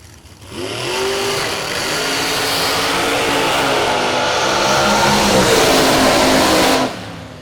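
A loud drag racing car engine roars and revs steadily for several seconds, its pitch rising and holding strong before cutting off abruptly.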